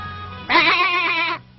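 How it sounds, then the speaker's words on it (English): A goat bleats once in an animated 1978 Pinocchio film, a loud, wavering cry of about one second, heard alone after a quiet moment. "There's a goat in the middle of the sea, but his hair is all blue"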